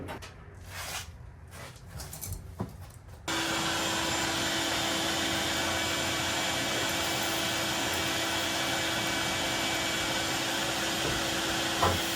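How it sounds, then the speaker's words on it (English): A vacuum cleaner switches on after a few seconds of quieter household noise, then runs loud and steady with a constant whine, close by. "let me just get the vacuum cleaner out of here."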